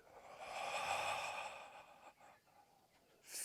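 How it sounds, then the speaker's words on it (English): A person slowly exhales during a dynamic yoga breathwork exercise, a single long airy breath out that swells and fades, close and fairly quiet, followed by a brief softer breath. "I breathe out."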